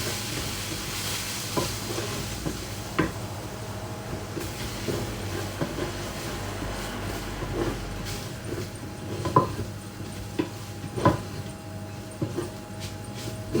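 Risotto stirred in a pan, a continuous low scraping and soft bubbling with scattered clicks of the spoon against the pan, steady and moderately quiet throughout.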